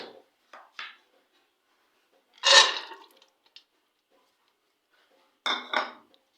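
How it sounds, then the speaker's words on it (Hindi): Chana dal lentils are added to a pressure cooker on a stove, heard as a few short metallic clinks and scrapes with one louder rattling pour of grains, separated by silence. "मैंने चूल्हे के ऊपर रखा है प्रेशर कुकर और इसमें मैं ऐड कर दूंगी चने की दाल"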